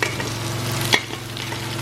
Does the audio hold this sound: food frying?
yes